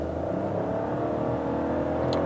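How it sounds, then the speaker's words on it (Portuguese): Fiat Pulse Audace turbo 200 in sport mode, launched hard from a standstill to 100 km/h, its engine droning steadily and loud throughout with a continuous cabin-level hum, no talking. "Bora lá para nossa aceleração de 0 a 100 para isso."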